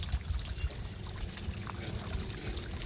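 Sulfur spring water bubbles up in a state park, giving a faint, continuous gurgle and trickle close by with no voices.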